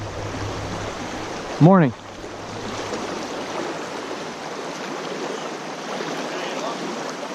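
Creek water rushes and babbles steadily on a Central Pennsylvania trout stream, with a brief whistling chirp early on and a short spoken word over the flow.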